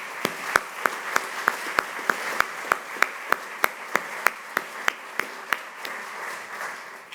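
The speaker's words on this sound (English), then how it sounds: "I'd like to just have everybody for a round of applause for everybody that came to the program" Sparse, slow claps ring out one by one at a Signing Day event for the New York Talent Pipeline Project, sharp isolated hand strikes spaced evenly with a faint room murmur beneath.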